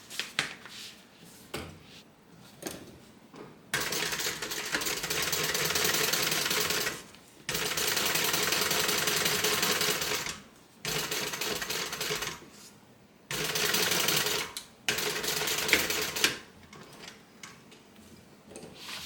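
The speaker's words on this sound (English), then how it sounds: "and then we're going to top stitch" A sewing machine topstitches a seam on a Leah water bottle tote bag in several separate runs of steady rapid stitching, separated by short quiet pauses.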